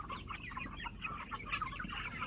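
A flock of chicks and chickens chatter and cluck continuously during early-morning feeding, a faint, busy layer of overlapping soft calls.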